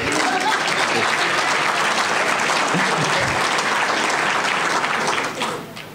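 An audience gives a round of applause at a public event, dense and steady clapping at full volume that fades out near the end.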